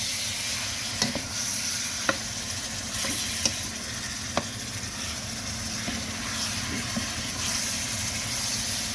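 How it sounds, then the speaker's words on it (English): Ground beef searing in a pot for one-pot chili, a steady loud sizzle and crackle with occasional spatula scrapes and clinks, close up and continuous without talk. "And we're going to let this sear off."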